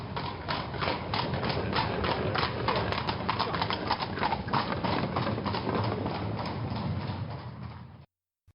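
Hooves of a horse pulling a carriage clip-clop steadily and briskly on a hard surface for about eight seconds, close and even in loudness, then stop.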